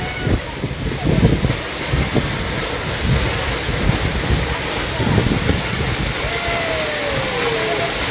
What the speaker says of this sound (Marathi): सुंदर असा धबधबा अप्रतिम धबधबा तुम्हाला दाखवणार आहे